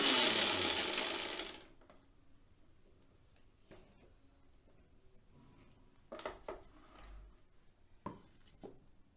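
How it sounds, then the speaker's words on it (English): A kitchen mixer grinder whirs loudly for about a second and a half while grinding red lentils into a paste, then stops, leaving quiet clinks and light clatter of the jar. "my mixer makes a lot of sound"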